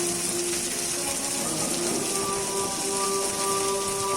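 Onion, ginger and garlic frying hard in a pan for a fish curry, a steady dense sizzle running throughout with no clear pauses and a faint tonal hum beneath.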